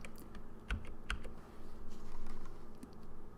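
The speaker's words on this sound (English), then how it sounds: "Let's hit Command D to duplicate that." Computer keyboard keystrokes tap out a quick shortcut in a design session: a few distinct close clicks with light typing patter around them.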